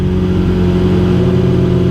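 A 2022 Suzuki Hayabusa motorcycle with a few modifications holds a loud, steady engine drone at about 3,000 RPM at a drag track, close and continuous for a brief moment.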